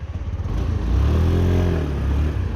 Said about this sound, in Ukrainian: Двигун працює суперово